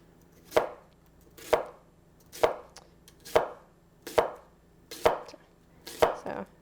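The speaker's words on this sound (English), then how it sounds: "When I get about halfway, I turn the onion and then start on the other side." A kitchen knife chops through an onion on a cutting board in seven evenly spaced, crisp thuds about one per second, each close and distinct with a brief ringing tail and quiet between strokes.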